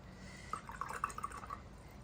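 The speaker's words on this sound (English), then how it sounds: "And I put some water down." Water is dabbed onto watercolour paint with a few soft, wet drips and small splashy plinks in quick succession, faint and close in a quiet room, with no talking.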